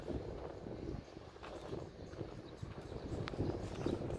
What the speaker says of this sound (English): It's getting pretty windy now.